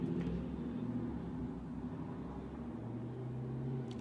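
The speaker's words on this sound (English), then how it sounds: "so sorry for the noisy cars around here" Traffic noise from cars passing outside open windows in California drifts in as a low, continuous rumble and hum, steady and moderately distant, with no voices.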